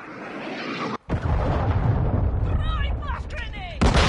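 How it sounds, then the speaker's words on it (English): Heavy explosions from a friendly cruise missile strike in Call of Duty MW2 on PS5 roar as dense, sustained rumbling blasts, broken by a brief gap and then a fresh loud burst at the end. "Friendly cruise missile deployed."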